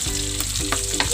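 Onions frying in hot cooking oil in a pan while making humba, a steady close sizzle and crackle with a few soft stirring scrapes, no talk.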